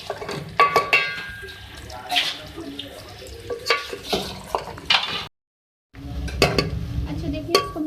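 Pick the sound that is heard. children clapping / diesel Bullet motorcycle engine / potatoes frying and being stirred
potatoes frying and being stirred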